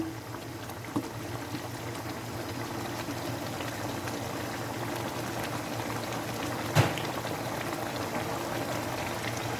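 Chicken sizzling steadily in oil in a karahi while being fried for chicken makhni karahi, a continuous close bubbling crackle with one brief louder clatter near the end.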